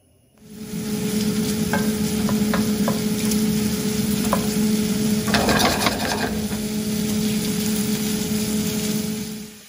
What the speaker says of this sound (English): we got our bacon really nicely melting over here on the pan